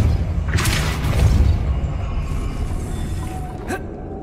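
Depulso spell impact in Hogwarts Legacy, a couple of sharp bursts and thuds early on and another brief crack near the end, over a low rumbling game background.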